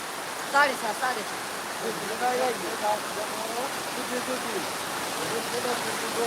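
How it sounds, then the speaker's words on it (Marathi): Heavy cloudburst-like downpour in Pirachi Kuroli, a dense continuous hiss of rain beneath someone speaking over it. "खूप पाऊस आहे मोठ्या प्रमाणामध्ये पाऊस आहे"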